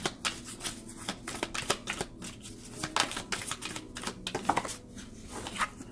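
Oracle cards being shuffled by hand for a monthly astrology reading, a dense run of soft papery riffles and flicks continuing steadily throughout, with no talking.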